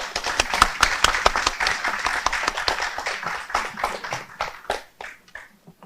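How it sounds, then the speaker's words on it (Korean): A room of party members applauding their leader, Kwon Seong-dong, at a People Power Party meeting: brisk, dense clapping from many hands, steady for several seconds before tapering into scattered claps and fading out. "우리 모두 박수 한번 좀 쳐드리셨으면 좋겠습니다."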